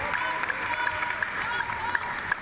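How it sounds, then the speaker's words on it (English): A crowd at a para table tennis match erupts in a loud, sustained cheer and applause that carries through the whole moment, with the rhythmic pock of ball strikes and a commentator's voice mixed in. "Oh, a big bellowing cheer that."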